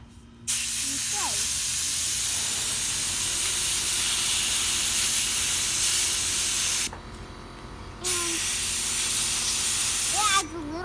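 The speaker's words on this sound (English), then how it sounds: "and then you spray." Paint sprayed from a Venturi-effect sprayer hisses loudly and steadily for about six seconds, pauses, then hisses again for a few more seconds, close by, with faint squeaks between bursts.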